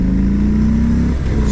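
A 2018 Harley-Davidson Fat Bob with its 107 cubic inch engine pulls hard under acceleration, a loud, close engine drone whose pitch climbs steadily before easing off near the end.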